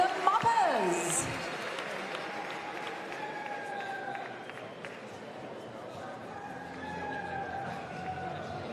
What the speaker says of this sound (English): Please give a big round of applause for our special guest, the Moppers.